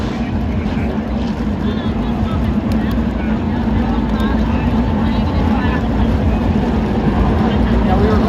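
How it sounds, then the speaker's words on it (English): Race car engines starting and idling together at North Wilkesboro Speedway, a dense, steady low rumble of many engines filling the air at a loud, constant level throughout. "Drivers, start your engines."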